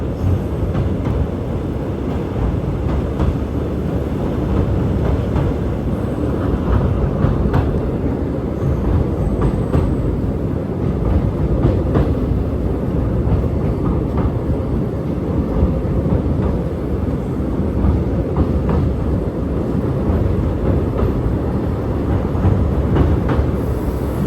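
Amrita Express train running toward Rameswaram, a steady, loud rumble of wheels and carriages that continues evenly throughout without pause.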